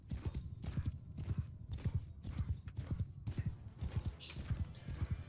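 A mounted archer's horse in the video game Mount & Blade II: Bannerlord clip-clops with quick, rhythmic hoofbeats and a faint snort among them, at a moderate distance.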